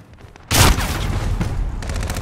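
A loud, close shotgun blast in a first-person shooter game bursts out suddenly, followed by a dense rattle of continued gunfire and smaller shots that trail on to the end.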